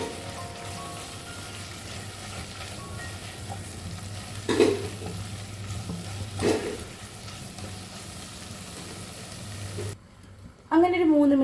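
Cut drumstick pieces sauté in a hot pan for a Kerala-style drumstick curry, giving a steady soft sizzle with a couple of louder stirring scrapes, then a sharp clatter near the end.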